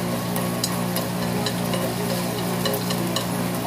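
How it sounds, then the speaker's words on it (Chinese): Diced meat stir-fries in a pan for a stir-fried jelly dish, a loud continuous sizzle close up with light scraping stirs and no voices. "下锅炒香"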